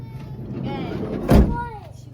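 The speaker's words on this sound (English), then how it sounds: "I'm going to close this door" A minivan door is shut with a single solid thud partway through, set against a quiet vehicle background while a person speaks softly before and after it.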